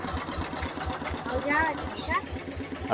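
A tractor engine runs nearby with a rhythmic, chugging idle beat, under a person talking throughout.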